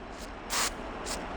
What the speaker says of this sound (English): I'm only going to spray one side here because I got to hold the headliner